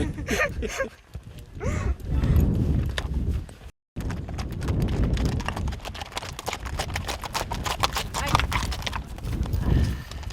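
Horses are driven in during a herd round-up at Skrapatungurétt, Iceland, 2018. Steady clip-clop of many hooves fills the scene, with a brief break midway, over outdoor noise and occasional voices.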